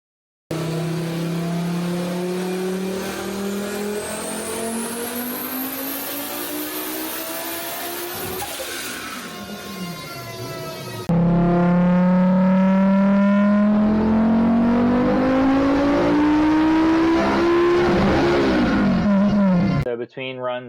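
Turbocharged Volvo 850 T-5R AWD engine roaring on a DynoJet chassis dyno in two loud wide-open pulls, pitch climbing steadily through the revs before dropping off, the second pull louder and fuller as boost is turned up.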